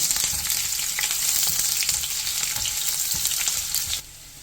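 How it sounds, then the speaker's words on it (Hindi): Curry leaves and onion fry in hot mustard oil with a loud, dense, crackling sizzle, broken by occasional stirring taps. The sound drops off abruptly near the end, and no one speaks. "इसमें हम ऐड करेंगे कड़ी पत्ता, प्याज। प्याज को थोड़ा सॉफ्ट होने तक पकाएंगे।"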